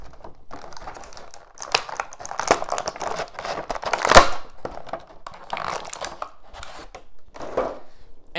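Stiff plastic packaging crackles and crinkles as a Jakks Pacific Super Mario Bros. Movie Luigi action figure is pried from its blister and backing card, a run of close, irregular clicks and crumples with one sharp snap midway.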